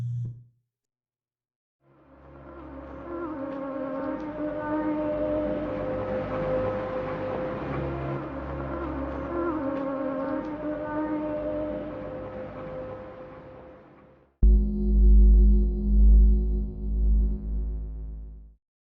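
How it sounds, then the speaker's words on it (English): Droning, grainy electronic ambience with wavering tones, swelling in after a brief silence, then a deeper, louder hum cutting in near the end. "Loading into the game, you are greeted with digital grainy ambience"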